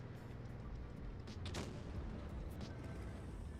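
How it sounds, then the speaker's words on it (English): Tank cannon fire across the map in a World of Tanks Blitz tournament match: a few distant booms over a dense background rumble. "Shots coming in cross map."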